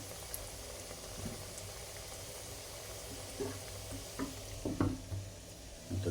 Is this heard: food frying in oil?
yes